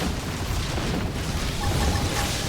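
Missile explosions from the Xenoblade Chronicles X video game rumble in a dense, continuous barrage of booms and bursts, loud and sustained with no clear pauses.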